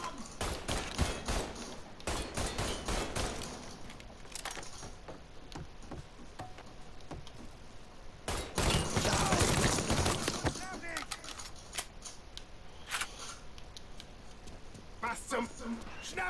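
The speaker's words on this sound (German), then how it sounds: "Ich schieß auf das Arschloch!" Gunfire crackles through a Mafia 3 firefight: sharp, close shots in quick irregular bursts, a dense volley near the middle, then scattered single shots, with someone talking over much of it.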